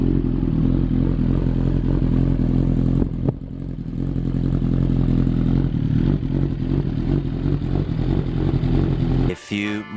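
A Suzuki GSX-R1000R sport motorcycle idles after a push-button start in hot weather, its engine a steady, close, throbbing drone with a brief dip partway through and a sharp clatter or rev at the very end.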